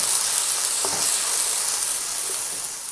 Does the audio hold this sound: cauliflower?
yes